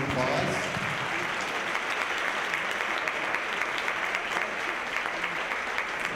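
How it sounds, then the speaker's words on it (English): Audience applause for a panel of student speakers at a fossil fuel divestment event, a dense, steady wash of many hands clapping that fills the room for several seconds before easing slightly. "Let's give them a round of applause."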